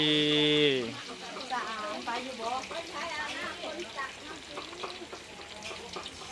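Oil sizzles and crackles steadily in a hot pan as egg goes in for a Thai omelette, a close frying hiss running under a voice talking throughout.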